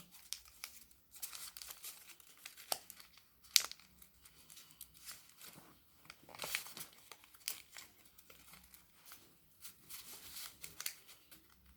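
Paper is folded and creased for a paper Beyblade craft, giving soft crinkles and sharper crackling bursts at an irregular pace, close and quiet, with no talking.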